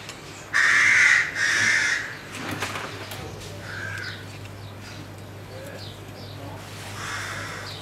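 Crows cawing at a wildlife care centre, two loud harsh calls close by early on, then fainter scattered caws and chatter over a steady low hum of the room.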